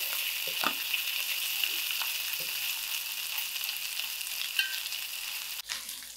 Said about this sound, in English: now I'm ready to break down my